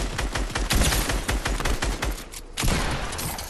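Rapid bursts of Fortnite gunfire crackle loud and close for several seconds, broken by a short lull before the shooting picks up again.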